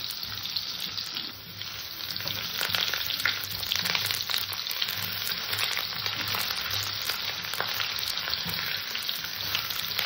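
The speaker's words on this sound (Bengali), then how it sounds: "আলু কটাকে আমি হালকা একটু নাড়াচাড়া দিয়ে হালকা ভেজে নেব।" Potatoes fry in hot oil in a pan, a steady close sizzle with occasional scraping as they are stirred, no talk.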